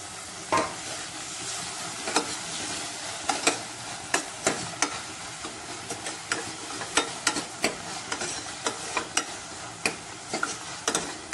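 Tomatoes cook down in a pan for rassa poha, a steady sizzle under regular utensil taps and scrapes against the pan, close and moderately quiet, with no voices.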